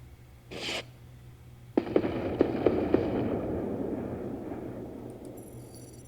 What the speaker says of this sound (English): Wow, guns did a lot of damage there.